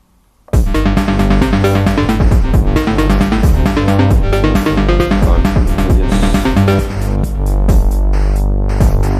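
Dense, loud generative breakbeat from a Novation Circuit Rhythm, with busy kicks, snares and cymbals layered over sustained tones, running continuously after a brief quiet start.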